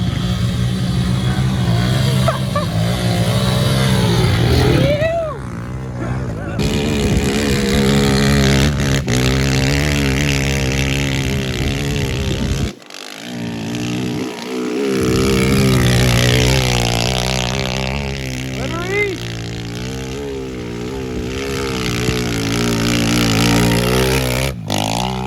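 Pit bike engine running close by, with a loud steady idle and repeated revs that rise and fall. It cuts out briefly midway, then catches again and keeps revving, with no voices.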